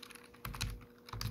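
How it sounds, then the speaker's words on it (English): Typing on a computer keyboard to enter a Linux terminal command: two quick bursts of close, crisp keystrokes with a short pause between them and no talk. "and now we go to the terminal, then type sudo apt get"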